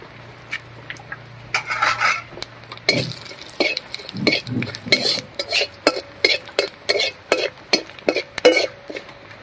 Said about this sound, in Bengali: ফোড়নের জন্য কড়াইতে দেবো একটা শুকনো লঙ্কা, একটা তেজপাতা, আর দিয়ে দেবো হাফ চামচ মতো গোটা জিরা।